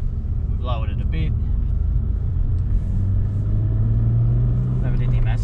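A lowered Toyota Supra JZA80 on new street coilovers drives along a street, a steady low engine and road rumble filling the cabin throughout, with a brief voice near the start.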